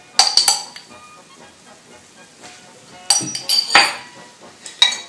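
A yeast mixture of sugar and yeast is stirred in a bowl, with scattered clinks and scrapes of utensil against bowl coming in bursts between quiet gaps.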